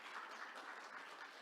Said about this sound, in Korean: 박수. 반주자 나오세요.